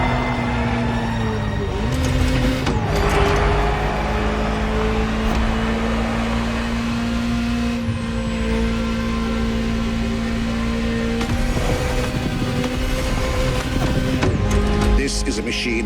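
Ferrari GTO engine in The Crew Motorfest, a steady loud drone with a sustained low tone and harmonics, rising slightly at moments, continuous throughout under possible background voice.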